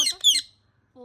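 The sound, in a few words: parrot squawking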